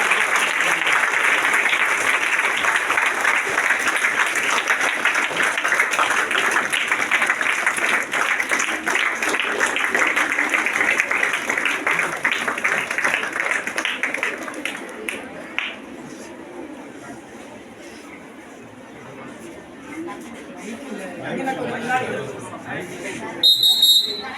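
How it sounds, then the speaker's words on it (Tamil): Sustained applause from a crowd of schoolgirls honouring a fellow student at a school event, loud and steady for about fifteen seconds before thinning into scattered claps and chatter as a voice speaks over it. "மாணவிகள் அனைவரும் மிகுந்த கரகோஷம் எழுப்பி மாணவியை பாராட்டுமாறு"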